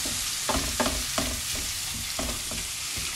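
Garlic sizzles in a hot pan with steady frying crackle, broken by a few quick scraping stirs of a spoon against the pan.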